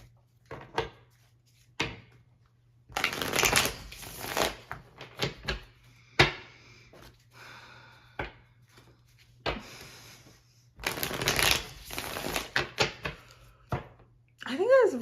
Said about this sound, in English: I think we should pull some tarot cards and get into it for you.